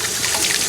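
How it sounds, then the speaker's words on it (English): Tap water running steadily over a finger being rinsed at a kitchen sink, a brief loud close trickling rush. "I'm gonna use tap water. So I'm actually going to rinse off my finger and wash my hands again"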